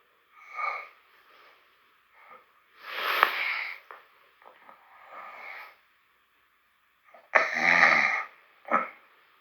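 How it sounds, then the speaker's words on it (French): A man snores in his sleep around three in the morning, several separate rasping breaths spaced by silent pauses, close and moderately loud, one long heavy snore followed by a shorter snort. "J'ai ronflé de 2h30 à peu près jusqu'à 3h au matin."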